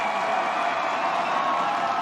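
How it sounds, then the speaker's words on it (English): Fans at a Thursday night NCAA women's soccer match in Tuscaloosa, Alabama against South Carolina, cheer and clap in a continuous, broad roar of stadium crowd noise. "the way this crowd is reacting"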